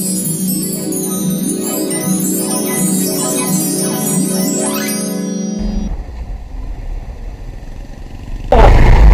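A motorcycle engine hums steadily on a coastal ride in the Konkan region for about six seconds. The tone then drops away to wind-like rumble, and a sudden loud burst of noise follows near the end.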